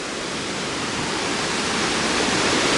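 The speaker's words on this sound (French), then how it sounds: "On touche pratiquement la cascade." Roar of the Bérard waterfall heard from close by on a via ferrata rope bridge, a loud, dense, unbroken rush of falling water filling the whole clip with no voices.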